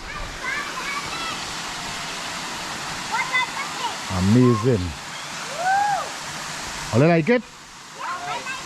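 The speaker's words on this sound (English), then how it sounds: "And the little stream running out here." A waterfall and a stream at Parlatuvier, Tobago, produce a constant loud rushing of water. Several people talk and exclaim intermittently over the steady flow.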